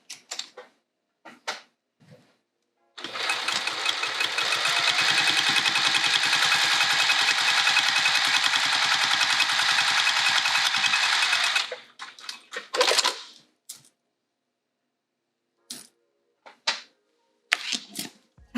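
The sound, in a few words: sewing machine top stitching a pouch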